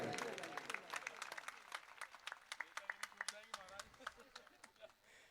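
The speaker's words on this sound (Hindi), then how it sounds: "आप सब लोग एक बार ताली बजाइए" An audience at a gathering claps after being asked to applaud, a scatter of sharp individual claps spread across the clip, with voices and a musical tone mixed in beneath.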